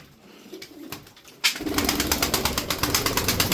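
Arab breed pigeons, jet-black birds, coo and flutter close by, soft calls at first and then a louder run of rhythmic cooing and rustling, no speech.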